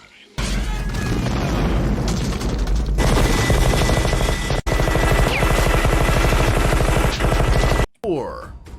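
Rapid, sustained machine-gun fire in the manner of a Gatling gun clearing a forest: dense, loud, continuous bursts for several seconds with heavy low booms, broken by a brief gap near the end.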